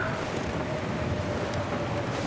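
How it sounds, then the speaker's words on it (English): Loud, steady wind howls across open ground in The Long Dark, a continuous broadband rush with a faint whistling tone running through it and no voices. "The wind is windy and noisy and loud."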